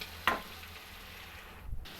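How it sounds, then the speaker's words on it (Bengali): Meat and potato fry in a pan with onion, salt and turmeric, giving a quiet, steady sizzle with a sharp stir or clink near the start and a faint scrape toward the end. "পেঁয়াজ ভাজার মধ্যে দিয়ে আমি মাংস আর আলুটাকে আরেকটু ভেজে নেব নুন হলুদ দিয়ে।"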